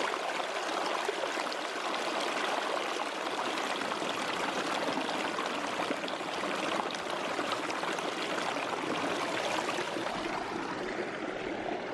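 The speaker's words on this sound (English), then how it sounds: "I'm at this lovely little river on Dartmoor." A small river on Dartmoor flows close by in a steady, full babble and trickle of water that carries on alone without pause.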